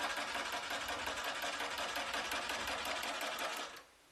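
A longarm quilting machine stitching along a ruler gives a steady fast mechanical whir with a rapid needle chatter. It runs continuously and close, then cuts off abruptly near the end.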